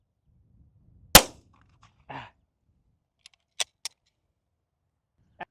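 A single sharp pistol shot from a CZ Shadow 2 at a steel target 100 out, followed by a few faint metallic ticks and clinks from the range.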